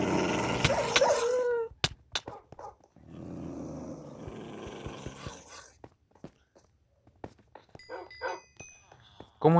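Dogs bark and growl in a video game, with loud bursts of barking and rough growls mixed with sharp thuds, while someone talks over them in Spanish.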